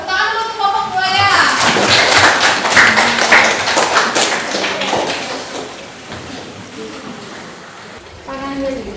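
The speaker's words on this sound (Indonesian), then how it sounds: "Tepuk tangan dulu untuk kelompok buaya." Applause from a classroom audience for a student group about to give a presentation, dense clapping with taps and thumps that fades toward the end as a voice starts talking.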